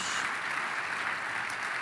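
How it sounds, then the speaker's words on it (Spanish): A steady wash of applause from a crowd, dense and continuous clapping throughout. "Démosle un fuerte aplauso al Señor"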